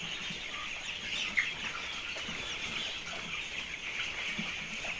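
Broiler chickens cluck steadily inside a poultry farm shed, a dense, continuous flock murmur with scattered louder calls and no voices.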